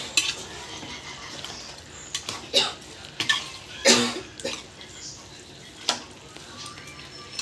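A spoon scraping and knocking in a pot while tomato is stirred into chicken curry: irregular clinks and scrapes, fairly close, over a low kitchen background with a faint sizzle.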